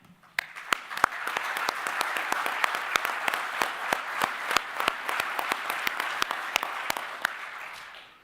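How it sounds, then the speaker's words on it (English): Audience applause for fire rescue training staff at a recruit class graduation ceremony, a dense steady wash of clapping from a roomful of people lasting about eight seconds, with a few sharper claps standing out before it tapers off at the end. "I want to give these guys a round of applause for the hard work that they do"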